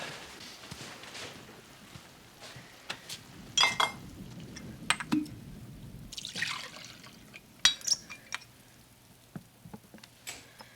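Whiskey poured into a glass with no ice, a soft intermittent trickle and liquid drips with faint glassy clinks, quiet and close in an otherwise still room.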